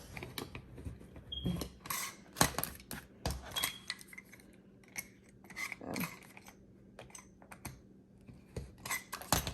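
A rotary cutter slices fabric on a cutting mat to trim a last small piece from a passport cover, giving a string of quiet, close, irregular clicks and scrapes with no talk.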